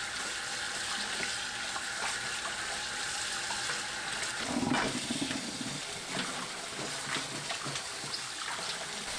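Tap water runs steadily into a bowl to soak garlic scapes, a close, continuous hiss and splash with a brief louder gush midway and no voices.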